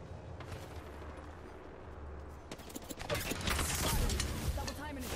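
Enemy gunfire in a video game breaks into dense, rapid rattling shots halfway through, following quieter mechanical clicking.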